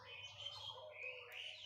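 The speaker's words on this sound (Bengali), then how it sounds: "সেগুলোতে বসে পাখিগুলো অনেক কিচিরমিচির করছে।" Small birds chirp and twitter steadily in trees beside a village wood-fired cooking stove in the morning, a continuous layered chorus of close, fairly loud calls with a low background rumble and no talk.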